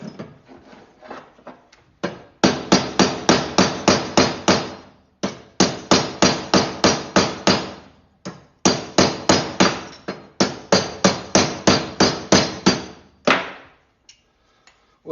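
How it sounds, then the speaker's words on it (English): A small crescent hammer taps on a knife handle at a knife shop, delivering rapid bursts of sharp, evenly spaced strikes in close succession, pausing briefly between runs. "Little crescent hammer action."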